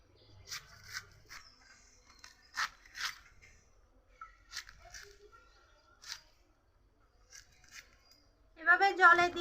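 Young jackfruit being cut into pieces on a board, a series of sharp, crisp slicing strokes spaced irregularly and heard up close, ending in a brief louder burst of activity.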